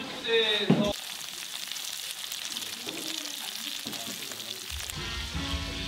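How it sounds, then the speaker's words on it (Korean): Meat frying in oil at a student cooking contest in Jeju gives a steady, close hiss and sizzle throughout, with a brief clatter and voices near the start. "고기를 이제 기름에 튀기는 거예요."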